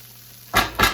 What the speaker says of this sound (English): I'm going to be doing a lot of whisking while I'm slowly adding the milk